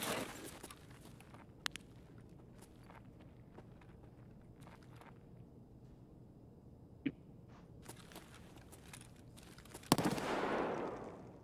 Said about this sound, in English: Sorry, I didn't mean to shoot.